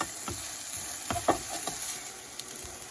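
Steak and onions stirred together on a Ninja Foodi Pro XL grill as the fat renders, a soft sizzle broken by several scraping, clacking spatula strokes over a few seconds.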